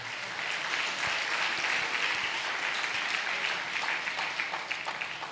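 Church congregation applauding together, a dense, steady wash of clapping from many hands that holds at an even level throughout without voices on top.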